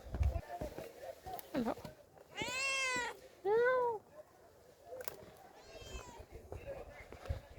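A cat meows several times, drawn-out and fairly loud, against a background of crowd chatter and distant talking.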